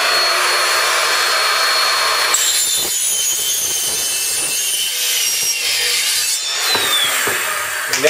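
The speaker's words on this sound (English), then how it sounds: "I have a simple circular saw" Loud, steady whine of a circular saw biting through pipe, with grinding and scraping continuing throughout at close range.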